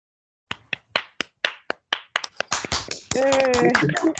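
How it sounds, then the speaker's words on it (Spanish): Audience applause closing an online seminar session, starting as sparse individual hand claps in an irregular rhythm, then thickening into overlapping clapping with a voice speaking over the end. "no queda más un aplauso por parte de todos"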